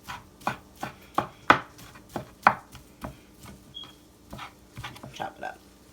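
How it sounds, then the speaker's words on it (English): Knife chopping deli meat on a cutting board for cheesesteak egg rolls, a run of sharp, close, fairly loud chops at an uneven rhythm with brief pauses between bursts. "chop it up."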